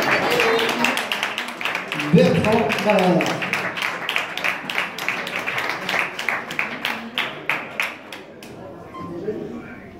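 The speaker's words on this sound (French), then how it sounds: "on l'applaudit très très fort" An audience applauds at a golf trophy awards ceremony, a sustained patter of many hands clapping close by, fading toward the end, with someone speaking over it at the start.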